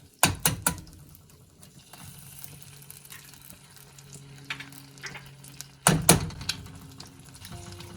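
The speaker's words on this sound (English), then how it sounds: "we're going to allow our butter to melt" Butter melting in a pan gives a faint, steady sizzle under sharp clattering and ratcheting handling noises, two loud clusters of clicks near the start and again past the middle.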